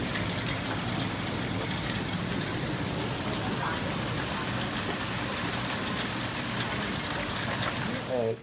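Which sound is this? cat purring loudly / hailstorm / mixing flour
hailstorm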